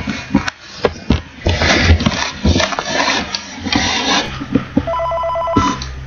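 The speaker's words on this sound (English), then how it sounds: "Okay, phone call." A phone rings in the Five Nights at Freddy's 3 video game, a repeated electronic ring near the end over clattering and shuffling sounds in the foreground.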